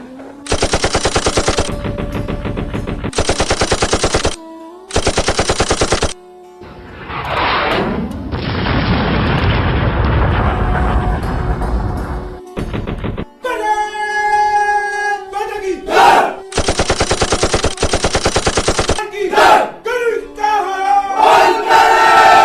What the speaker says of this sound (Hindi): दुश्मन द्वारा हेवी गोलाबारी और स्मॉल आर्म्स फायर की आग अटैकिंग ट्रूप्स पर बरसने लगी।